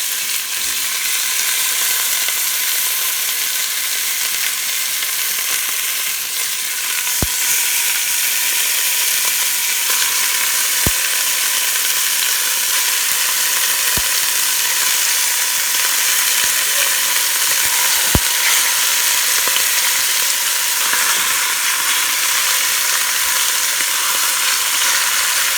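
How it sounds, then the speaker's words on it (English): Beef sears in olive oil in a hot pan for beef green chile, a loud steady hiss and crackle throughout, broken by a few sharp ticks as pieces are moved. "Olive oil, and we're gonna start by searing our meat."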